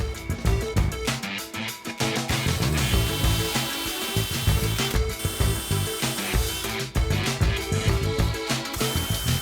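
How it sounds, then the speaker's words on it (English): A drill bores holes for a front blade splitter on a 2018-2022 Mustang, giving a rough, grinding, chattering buzz with uneven bursts that runs close and loud throughout. "we're gonna drill out the holes."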